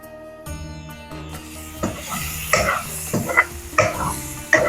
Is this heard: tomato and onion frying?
yes